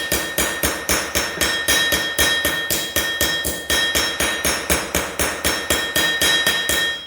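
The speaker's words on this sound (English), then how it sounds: "So you put them in these radius areas here, and you hold them, and then you just hit them." Metal leaves for a handmade tree-of-life gift are struck with a hammer into a curved form, a steady run of sharp, evenly spaced ringing blows, close and loud, with no talk.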